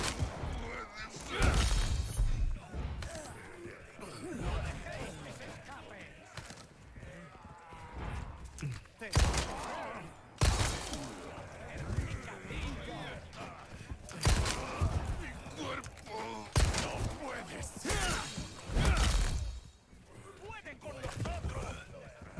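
Gunfire from a shooter video game on a PC as the player fires at NPCs: sharp, scattered shots burst out every few seconds over a busy bed of game sound and voice-like chatter.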